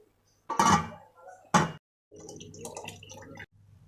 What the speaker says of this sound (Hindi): ये देखो पानी आप हो गया।